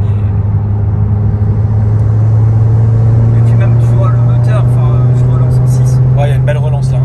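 A 430 hp Audi TT RS engine drones steadily and loudly from inside the car while driving, a constant deep rumble with brief higher revving notes toward the end.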